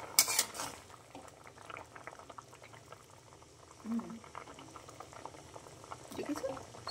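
Potatoes boiling in a pot give a soft, low bubbling that keeps going under a few faint clinks of utensils and pot sounds, fairly quiet and close.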